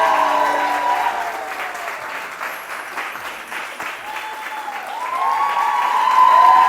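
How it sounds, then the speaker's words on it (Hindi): Studio audience applause for guest Junaid Khan on a TV morning show, a sustained wash of clapping that dips briefly midway and swells again toward the end, with faint voices beneath. "Please put your hands together for Junaid Khan."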